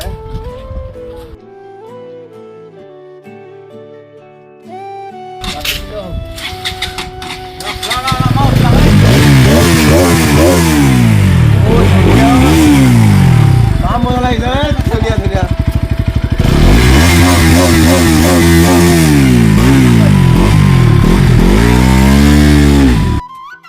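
A motorcycle engine starts, then revs loudly again and again, the pitch rising and falling with each twist of the throttle; voices can be heard early on.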